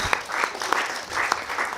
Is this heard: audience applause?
yes